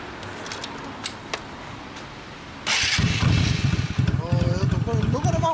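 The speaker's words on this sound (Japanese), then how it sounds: "すみません、エンジンを聞かせてもらえる？" Quiet background with a few small clicks, then a 2005 Yamaha DragStar 250 motorcycle engine fires up and idles loudly with a rough, throbbing rumble close by.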